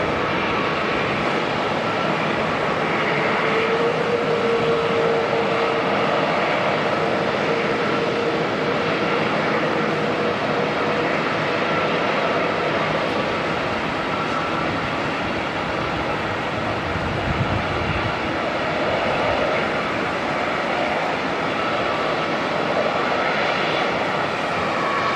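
Qantas 112 airliner lined up for takeoff to Perth at Auckland Airport, a constant loud jet engine rumble and roar that holds steady throughout.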